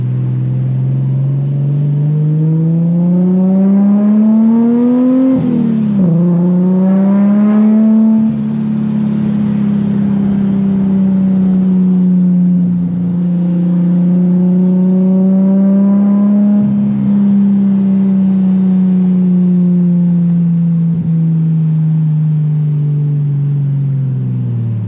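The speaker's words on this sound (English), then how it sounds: "Driving right-hand drive, manual, recording, and watching out for potholes, not the move." A modified Ferrari F40 with a manual gearbox, driven on rough, potholed roads, its engine droning loud and close as it climbs through several gear changes and settles at a steady cruise.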